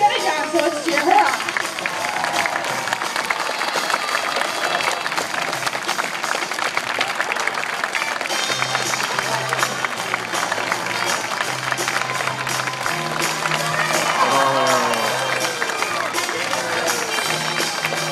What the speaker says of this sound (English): Now the louder you all clap, the higher she's gonna jump, so let's cheer her up.